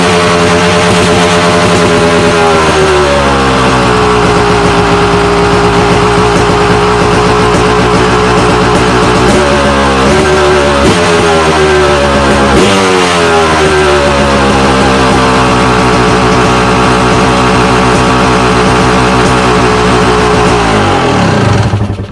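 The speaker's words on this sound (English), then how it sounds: "for those of you that want to hear the exhaust, I'm going to do a sound clip of the stock exhaust" A motorcycle engine with its stock exhaust idles loudly and steadily, with several throttle blips revving up and settling back, the exhaust rumble continuous and close throughout.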